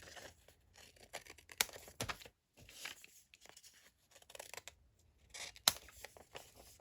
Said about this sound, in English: I'll seal both front and back, and then just trim off the sides.